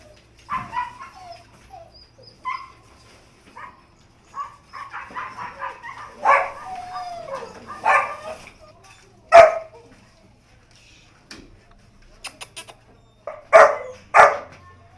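Several dogs barking at an animal shelter, scattered loud barks and yelps in irregular bursts with quiet gaps, some near and some farther off, with faint bird calls.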